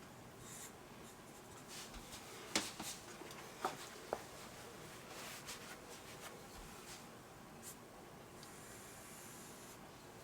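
Fine liner or Sharpie drawing a cartoon lion's eyes on paper, faint close scratchy strokes in short bursts with a few sharper taps, no talk.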